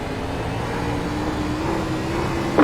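A NASCAR Cup stock car engine drones in the iRacing game on the USA Speedway straightaway, a continuous loud rumbling roar with slight rough texture as it rolls over bumps, no voices.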